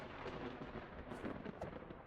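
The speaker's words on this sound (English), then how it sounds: "That's some intense lightning." Thunder rumbling through a lightning storm in the survival game Vintage Story, a loud, continuous low roll that swells and crackles throughout, with no talk over it.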